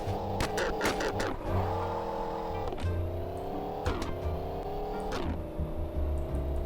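A self-tuned car engine revs repeatedly, each rise in pitch climbing then dropping as the gear shifts, with a steady low idle rumble underneath, close and fairly loud.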